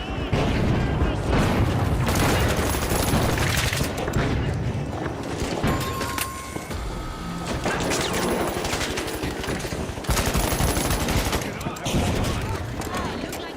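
Rapid bursts of gunfire and explosions from a shooter video game, dense and loud throughout, with heavy low booms layered under the firing and players talking over the action.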